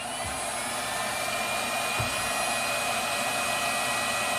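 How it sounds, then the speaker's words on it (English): A blower runs steadily, spraying biocide into an HVAC duct, with a loud, continuous broadband rush of air and a couple of faint low thumps, and no voices. "when I turn on the blower, it is blowing the biocide out of the blower"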